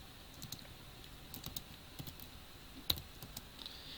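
Typing on a computer keyboard while entering R code, heard close and quiet: scattered light key clicks in small irregular bursts, with one sharper tap near the end and no talking.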